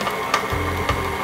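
An electric mixer beats cream cheese icing with confectioners' sugar on low speed, giving a steady motor whir with a soft rhythmic churning pulse. It is close and heard alone.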